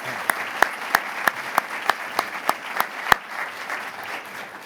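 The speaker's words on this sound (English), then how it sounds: "So let's give them a big round of applause." An audience at a college event claps in a steady, rhythmic beat of about ten sharp, evenly spaced claps over a soft crowd murmur, then the clapping fades into looser background noise.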